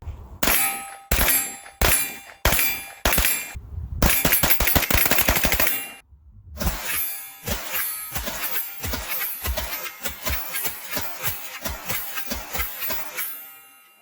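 A CMMG 9mm carbine built on an 8-inch radial delayed blowback kit fires at an outdoor range: several sharp, loud, evenly spaced shots, then a long rapid string of reports, each ending with a ringing clang.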